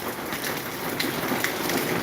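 Heavy rain falls steadily in Maharajpur as a dense, even hiss with scattered louder drops, heard alone without voices.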